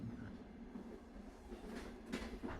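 A train rolls along with a faint, steady rumble and soft rhythmic clacks from the wheels on the rails, heard from inside a carriage with no voices.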